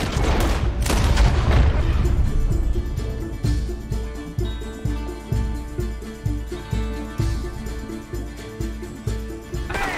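Gunfire in the Western video game Red Dead Redemption 2: a burst of loud booming shots at the start, then a steady run of evenly spaced gunshots over a low droning background.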